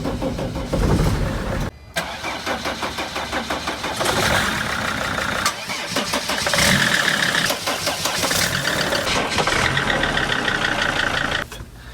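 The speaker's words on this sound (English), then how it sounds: "it's had this boom when it starts up." A T1N Sprinter van's engine cranks and starts with a boom, then settles into a loud, steady close-up idle that runs on without any talk.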